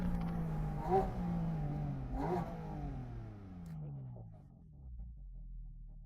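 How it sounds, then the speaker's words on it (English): A Porsche Cayman GT4 sports car accelerates hard into a curve, its engine revving up twice in rising sweeps, then braking and downshifting with falling pitch as the tone drops away, loud and close. "Beautifully accelerating into the curve, braking down, downshifting"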